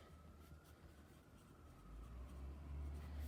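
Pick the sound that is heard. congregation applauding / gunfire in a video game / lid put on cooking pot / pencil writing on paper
pencil writing on paper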